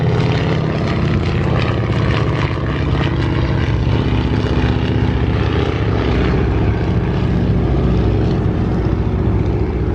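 A vintage airplane's propeller engine drones loudly and steadily at an airshow on a fine day, a dense continuous roar with no pauses and no talking.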